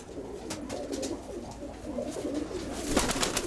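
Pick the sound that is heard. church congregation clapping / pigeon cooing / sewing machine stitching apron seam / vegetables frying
pigeon cooing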